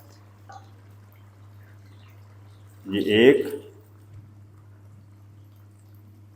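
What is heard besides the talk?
pouring water into a pot of chana dal gosht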